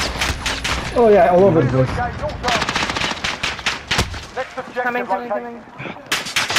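Rapid automatic gunfire in a video game rattles loud and close in long bursts, mixed with single shots, while players talk over it.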